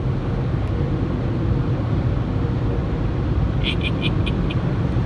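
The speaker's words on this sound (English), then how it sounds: "We're going through a car wash." An automatic car wash heard from inside the car: a steady, loud broadband roar of spraying water and machinery fills the whole stretch, with a few brief high hissing bursts near the end and no talk.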